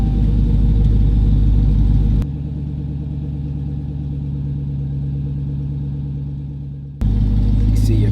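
A 2018 Dodge Challenger SRT Demon engine rumbles loud and close, with a deep steady idle that briefly drops in level and then returns just as heavy near the end.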